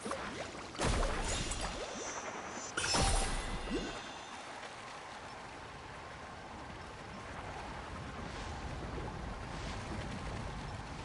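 Gliding across waves in Genshin Impact: two heavy splashing crashes of water near the start, then a steady rushing, churning wash of water continuing underneath to the end.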